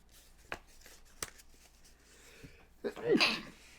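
A couple of faint taps, then a single sharp sneeze near the end, fairly close and louder than everything before it.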